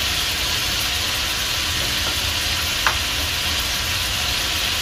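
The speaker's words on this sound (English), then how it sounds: "now this is frying up a little bit" Steady crackling sizzle of food frying in a pan with lots of garlic for spaghetti and meatballs, loud and continuous, with a faint click partway through.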